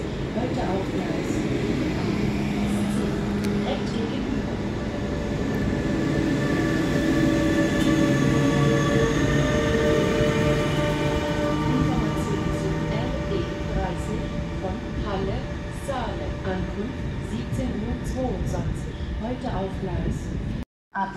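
An RE30 regional train from Halle arrives at Magdeburg Hauptbahnhof, its steady rumble and rolling rail noise filling the platform with faint high squeals, then cutting off abruptly at the end.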